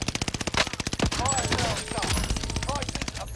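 Rapid automatic gunfire rattles in the video game Call of Duty: Modern Warfare, loud and close, with steady machine-gun bursts running almost nonstop and faint voices underneath.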